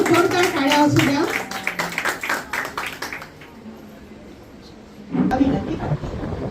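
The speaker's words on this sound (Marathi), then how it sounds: "जोरदार टाळ्या असू द्या।" Audience at a Buddhist vihara gathering in Vahal village clapping loudly for a few seconds, then the applause thins and fades, with a voice returning over a quiet room.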